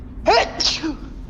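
One sharp sneeze, close and loud, bursting out suddenly in an otherwise quiet room.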